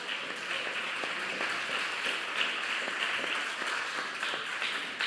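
A congregation applauds in a church service, a continuous, dense wash of clapping hands at moderate loudness that holds steady throughout without speech.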